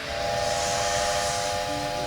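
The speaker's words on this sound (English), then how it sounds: "it's because I'm a steam locomotive." A cartoon steam locomotive sounds its whistle as a sustained multi-tone chord over a loud, continuous hiss of steam, with a lower tone joining near the end.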